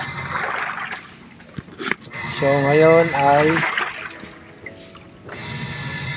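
An Electrolux fully automatic washing machine restarts its drum spin in rinse mode, a low churning rumble with watery swishing running under steady talk throughout.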